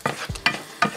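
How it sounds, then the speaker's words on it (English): Leftover potato and egg hash stirred in a pan, three quick scraping strokes with a soft sizzle underneath, close and fairly loud. "Just give it a good mix."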